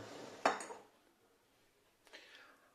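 Glass jars of orchid growing medium clink as they are set into an oven for sterilizing, one sharp glassy knock followed by a fainter rattle a moment later.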